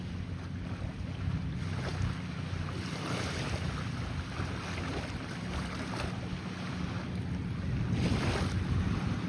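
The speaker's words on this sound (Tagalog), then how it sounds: "Kasi nga malakas yung hangin ngayong umaga." Strong morning wind buffets the microphone at Dolomite Beach, a steady loud roar with gusty swells and surf-like wash, no voices heard.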